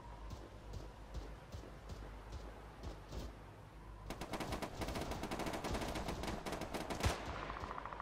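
Arma 3 gunfire: scattered distant single shots at first, then a sustained burst of rapid automatic fire, close and loud for the last half.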